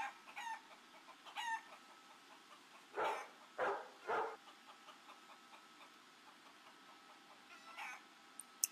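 A few short chicken clucks sound outdoors in spaced bursts, with fainter fowl calls now and then against quiet background hiss.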